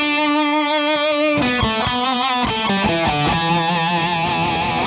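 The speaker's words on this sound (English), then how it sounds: "this is a must-have distortion pedal" Electric guitar played through a Bogner Ecstasy Red distortion pedal: a sustained distorted chord rings out, then a run of articulated, compressed legato notes, loud and up close with no talk.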